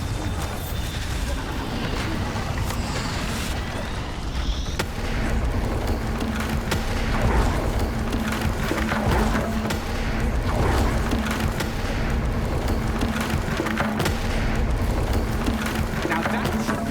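Heavy booming blasts from the Bombarda spell in Hogwarts Legacy, smashing wood apart amid a steady, rain-like crackle of debris. Muffled impacts roll on under a continuous noisy bed, and a voice speaks over part of it.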